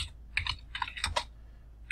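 A short burst of typing on a computer keyboard while entering a command: about eight quiet, close key clicks in an uneven rhythm over two seconds, with no voices.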